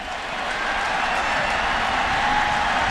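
Broad, steady crowd roar from stadium fans in NCAA Football 2009, a sustained wash of cheering that swells slightly and holds at a loud, even level with no distinct voices.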